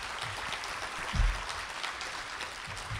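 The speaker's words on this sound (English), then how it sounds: "If you please give the panelists a round of applause" Soft, diffuse applause from a school parents' assembly audience for a panel, a low continuous patter of many hands heard at a distance, with a brief low thump partway through.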